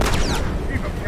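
Dense burst of video game gunfire in Factions, loud and continuous with heavy low rumble, crackling shots overlapping with voices talking throughout.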